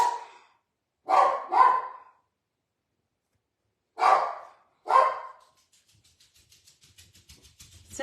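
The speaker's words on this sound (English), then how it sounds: "You don't need to bark anymore. You scared the scary FedEx guy away." A pet dog named Archie barks at a delivery driver, giving a single bark, then a quick double, a pause, and two more sharp close barks, followed by faint low growling and snuffling near the end.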